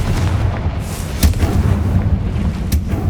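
Confringo blasting spell explosions in the video game Hogwarts Legacy: two sharp, booming bursts spaced about a second and a half apart over a low rumbling background.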